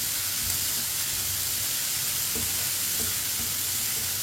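Tomatoes and finely chopped green chillies fry in a pan for a karela and chicken dish, with a steady close sizzle and faint scraping as a spoon stirs them.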